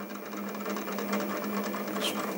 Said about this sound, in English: a normal electric drill